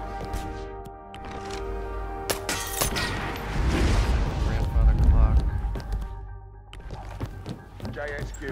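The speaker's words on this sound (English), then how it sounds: "Someone is setting off explosions in my vicinity" Explosions go off close by in the stealth game HITMAN: heavy booms and crashing debris swell in the middle of the clip, with a man's radio-style voice talking over the blasts.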